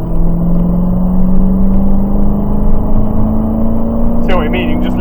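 Dodge Challenger Hellcat V8 pulling hard from inside the cabin, a steady rising engine drone that climbs gradually in pitch as power is squeezed on, with a person speaking briefly near the end.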